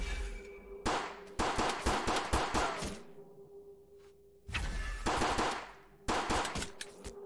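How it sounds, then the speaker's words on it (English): Pistol fire in the VR video game Hellsweeper, with the pistol tilted to shoot ricochet rounds: a run of sharp metallic shots, then a pause, then two more short bursts of cracks with ringing tails, close and alone. "By tilting your pistol to one side, you can fire... It will fire ricochet."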